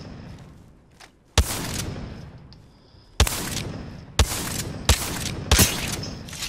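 Gunfire in the Apex Legends video game: five loud, sharp shots at irregular intervals over about five seconds, each cracking close and decaying into a short echoing tail, with no talk.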